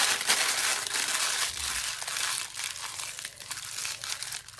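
Parchment paper crinkled and crushed by hand in a home kitchen while making buttermilk biscuits, a dense, continuous papery crackle up close, fairly loud throughout and easing slightly toward the end.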